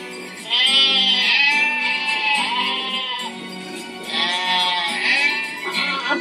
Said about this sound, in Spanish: Oímos el ganado.